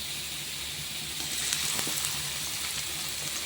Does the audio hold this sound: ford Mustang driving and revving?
no